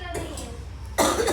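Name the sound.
coughing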